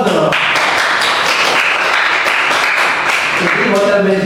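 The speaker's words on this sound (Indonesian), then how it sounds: "Kasih aplaus dong." An audience applauds at a hospitality lecture at Institut Pariwisata Trisakti, a steady, loud wash of clapping that holds for several seconds.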